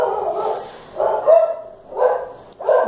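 Dogs barking nearby in a few short, loud bursts with pauses between, some yelping and whimpering mixed in, no talking over them.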